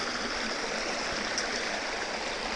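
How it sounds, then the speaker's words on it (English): Steady rushing of a small stream at a trail water crossing on the Appalachian Trail, a continuous close broadband wash of flowing water with no voices. "Got ourselves a little water crossing."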